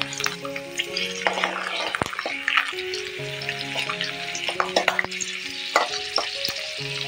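Garlic and dried red chillies fry with popping mustard seeds in hot oil, making a constant close sizzle broken by crackles, with a few faint background tones and no talking.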